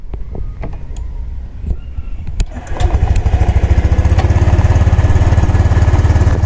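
A Honda Click 125 V3 scooter with a misfiring engine and an odd noise, cranking briefly with clicks before catching and settling into a loud, close, pulsing idle.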